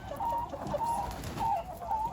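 Hens in a chicken coop pen, older birds free-ranging and partly molted, give soft repeated clucks and murmurs through a steady barnyard hum, moderately close and continuous.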